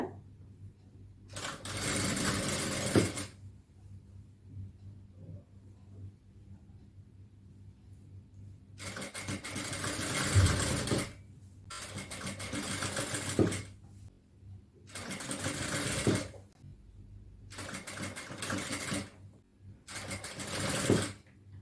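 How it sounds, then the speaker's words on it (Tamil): An electric sewing machine stitching a folded hem, running in five loud close bursts of steady rapid whirring, each a second or two long, separated by quiet pauses, with no speech. "கொஞ்சம் கொஞ்சமா மடிச்சு தைக்கணும்."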